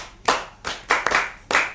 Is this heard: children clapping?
yes